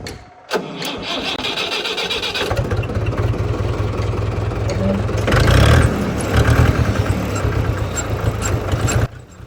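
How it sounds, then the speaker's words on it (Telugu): A diesel tractor engine cranks and starts after being kick-started, settling into a loud, steady mid-pitched idle with a brief rev midway, close by, with some voices around it. "ఇప్పుడైతే వెహికల్ స్టార్ట్ అవుతుందండి"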